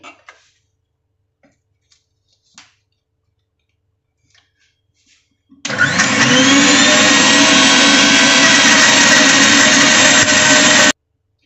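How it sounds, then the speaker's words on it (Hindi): An electric grinder pulverises dried Kashmiri red chillies into powder. After several faint clicks and taps, it starts abruptly and runs as a loud, steady whirring roar for about five seconds before stopping sharply. "तो इसी तक इस तरीके से हम जो है अपनी सारी जितनी भी हमारी चिल्ली है उनको हम ग्राइंड कर लेंगे।"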